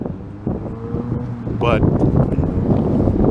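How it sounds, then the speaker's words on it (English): Gusty wind rushing over a microphone outdoors near a Tampa hotel, a steady low roar that grows louder partway through, with someone talking over it. "it's probably a little windy"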